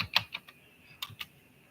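Someone types on a computer keyboard, a short quiet run of separate key clicks in an uneven rhythm, close and alone.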